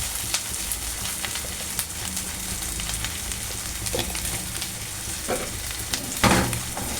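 Galijeru greens with a little turmeric being stirred in a frying pan, with a steady sizzle and scraping stir strokes throughout and a louder clatter near the end, no talking.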